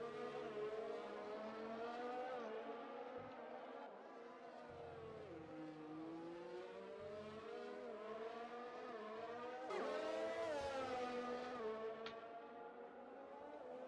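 F1 race cars in Project Cars 2 at the Brazil circuit, engines whining and shifting pitch as they accelerate and pass, with brief tire squeal, a continuous close mechanical roar without talk.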